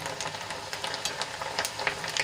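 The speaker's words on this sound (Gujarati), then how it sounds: "તો આ રીતે હલાવી હલાવીને આપણે દાળને સરસ રીતે ઉપર નીચે કરીને તળી લઈશું" Chana dal frying in hot oil while being stirred, giving a steady close crackling sizzle with scattered brighter pops and faint scraping throughout, with no talking.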